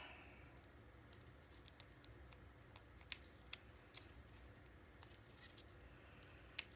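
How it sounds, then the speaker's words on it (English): Scissors make small, sharp snips while trimming bling embellishments for a Graphic 45 Steampunk Spells mini album, scattered irregular clicks over a faint background hiss, quiet and close, with no voices. "You don't need to watch me trim bling."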